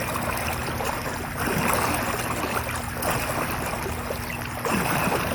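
Steady churning water splashing as arms push and pull through a pool during a water fitness routine, a continuous sloshing wash with faint surges and no talk.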